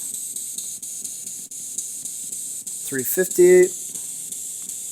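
Hiss of AM radio static from a ghost box scanning the band, a steady faint wash throughout, with a short burst of louder garbled radio sound and a voice partway through.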